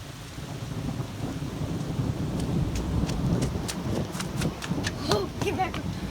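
Steady rain during a thunderstorm at a home with a flooded driveway, a broad continuous wash with low rumbling throughout and a cluster of sharper crackling bursts toward the end, no talk.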